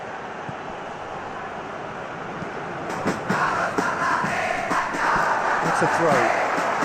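Dense football stadium crowd roaring throughout, swelling louder midway as the noise builds, with a commentator's voice talking over it.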